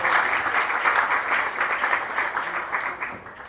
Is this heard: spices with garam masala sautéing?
no